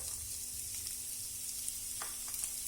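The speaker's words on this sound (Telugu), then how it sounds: "బీన్స్ వేసుకొని ఒకసారి ఫ్రై చేద్దాము." Green beans fry in a pan with tempering and curry leaves for a carrot beans fry, a faint, steady sizzle with a few soft stirring scrapes.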